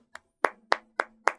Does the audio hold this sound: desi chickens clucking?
no